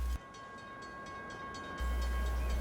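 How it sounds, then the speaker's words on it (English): Southbound double-stack freight train passing at Folkston, a continuous rolling rumble with faint rhythmic clatter, steady and moderately near throughout. "a southbound double-stack train came"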